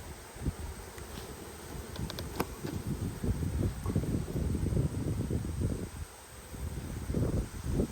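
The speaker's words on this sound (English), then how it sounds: "There's a lot of bees on this other side of this frame." Honeybees buzz densely around a hive frame being handled, a close, continuous, fluctuating drone with soft rustling and bumps mixed in.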